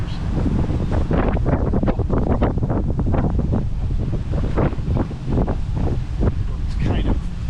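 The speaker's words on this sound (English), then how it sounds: "You can see the choppiness of Lake Virginia with the wind just whipping across the lake." Strong wind buffets the microphone on a boat out on choppy Lake Virginia in Winter Park, Florida, a steady loud roar with rushing water and chop underneath, and a voice talking over it throughout.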